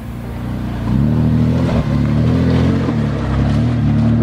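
A Suzuki Vitara's V6 engine revs hard while offroading on an alpine trail, a loud, close, steady drone that climbs in pitch after the first second and stays strained throughout.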